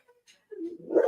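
A pet dog reacting excitedly to a doorbell, a short sequence of agitated whining and barking vocalizations that builds in loudness over about a second, close by and with no talking.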